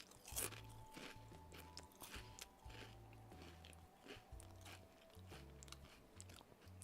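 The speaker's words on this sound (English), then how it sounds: "Sometimes I do crunchy chips eating ASMR on stream, like right now." Crunchy chips eaten up close in an ASMR style, a steady run of sharp bites and crisp chewing crunches repeating through the whole stretch, fairly quiet, with no talking over it.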